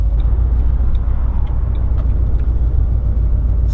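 A Ford Mustang fitted with a T56 transmission reverses with a loud, steady engine rumble and low drivetrain drone. A few faint clicks sound over the noise, and no one talks.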